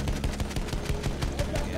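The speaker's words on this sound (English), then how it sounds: "And now they're shooting back like" Rapid automatic gunfire in the World War I shooter Battlefield 1, a fast regular stream of close shots rattling steadily under continuous battle noise.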